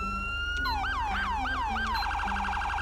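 Police siren from a police car in the video game GTA V, a steady tone shifting into repeated rising-falling wails, loud and close with no talk over it.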